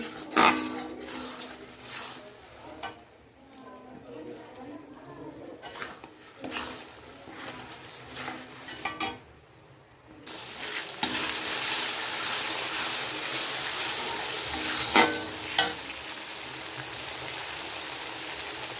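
Mutton sizzles and frying in a pan while being stirred, soft and intermittent at first with scraping strokes, then a steady louder sizzle takes over from about the midpoint, with no talking.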